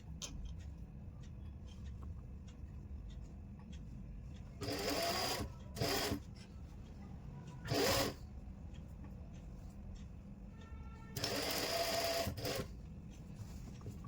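A sewing machine stitches a suit collar in short bursts: four separate runs of rapid mechanical chatter, close and clear, with quiet room tone and small handling clicks between them.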